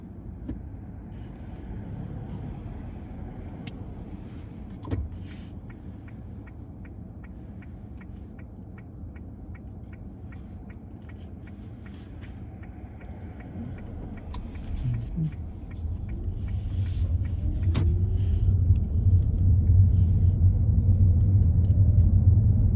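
A learner's car pulling away during a mock practical driving test, a low steady engine and road rumble from inside the cabin that swells louder toward the end as the car gathers speed.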